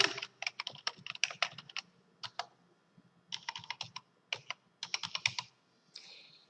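Login details are typed on a computer keyboard in bursts of quick, crisp keystrokes separated by short pauses, close and clear with no talking.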